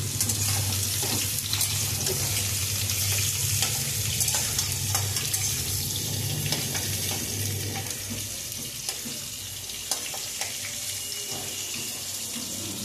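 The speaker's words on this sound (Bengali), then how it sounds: "এবার আলুগুলো ভাজা হবে।" Potato pieces fry in hot oil in a wok, giving a dense, continuous sizzle and crackle with faint stirring scrapes. It stays steady and close for the whole stretch, with no talking.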